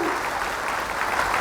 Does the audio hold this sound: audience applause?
yes